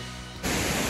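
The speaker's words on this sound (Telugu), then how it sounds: "దడ దడ దడ దడ అని పడుతుంది వాటర్ అయితే వెనకాల నుంచి" Tirathgarh Waterfalls in Chhattisgarh pour down in a dense, continuous roar that suddenly swells louder partway through and then holds steady and close.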